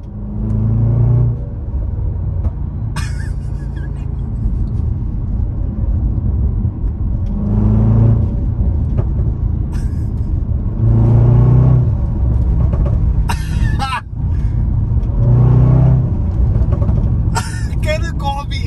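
A JLR SVR SUV with a 5-litre supercharged engine rumbles deeply from inside the cabin, swelling in several revving surges over a steady low drone, while someone talks throughout.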